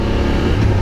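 A car moving nearby in city traffic, heard as a loud, steady engine and road roar that fills the whole short moment without pause.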